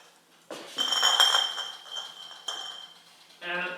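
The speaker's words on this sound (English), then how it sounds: "let's take the jars out of the oven" Hot glass jars lifted out of an oven, bright clinks and rattles of glass in a few bursts with short pauses between, close by and moderately loud.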